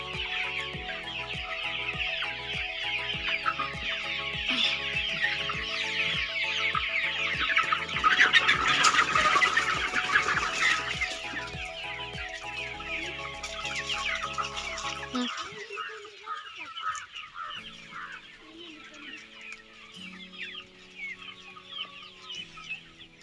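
Chickens cluck and squawk continuously, a busy flock close by in an open poultry yard, with some shuffling and rustling; the noise thins out toward the end.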